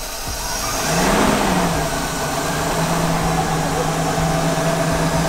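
The engine of a Ford F53 Class A RV cranks, catches and revs up after a fuel pump repair, then settles into a loud, steady idle with its low drone close by.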